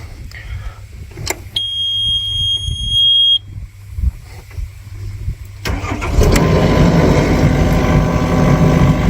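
A Yanmar Vio 55 excavator diesel engine starts after a few seconds of quieter handling noise, then settles into a loud, steady running rumble close by, with a brief high electronic tone sounding early on.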